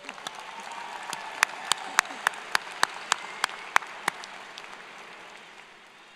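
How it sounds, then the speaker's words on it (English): Sparse, individual hand claps ring out at a high school graduation ceremony, a dozen or so distinct claps spread over several seconds against a soft hall ambience, thinning out toward the end. "Let's give them a round of applause."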